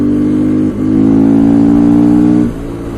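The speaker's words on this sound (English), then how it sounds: "Loud exhaust also helps." Loud motorcycle exhaust droning close by, with a steady engine note that dips briefly, swells back, then drops to a lower idle near the end.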